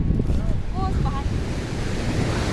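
Glacial meltwater stream fed from the Marsar and Tarsar lakes, a steady, close rushing wash of water mixed with gusty wind across the microphone, with a few faint high chirps early on.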